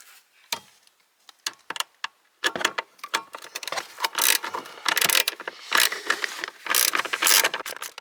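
A ratchet wrench loosens blower motor bolts on a 2004-2015 Nissan Titan, giving a few isolated clicks at first, then dense, uneven runs of close, sharp ratcheting.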